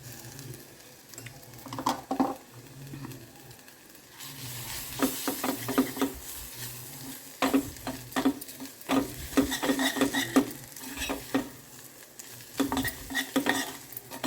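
Grated coconut frying with fresh homemade ginger garlic paste and a few lentils in a pan, a steady close sizzle broken by repeated scraping stirs of a spoon against the metal.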